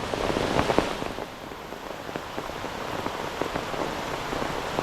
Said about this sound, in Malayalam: ഇതുപോലത്തെ മഴയാണ് ഈ പ്രാവശ്യം